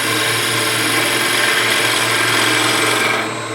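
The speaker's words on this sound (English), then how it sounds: "A little planing across here." A gouge makes a planing cut on wood spinning in a woodturning lathe, producing a continuous loud shearing, rasping hiss over a low motor hum, steady and close for the whole stretch.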